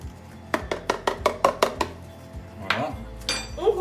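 Vegetable cake batter is worked in a bowl, a run of quick, evenly spaced clinks of a utensil against the bowl followed by softer scraping and knocks, close and fairly loud, with no talking.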